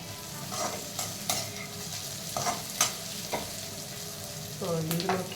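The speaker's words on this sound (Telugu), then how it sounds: "పన్నీర్ కూడా ఫ్రై అయింది." Paneer cubes fry in a pan for veg fried rice, with a continuous sizzle broken by repeated spatula scrapes and clinks. Stirring grows busier toward the end.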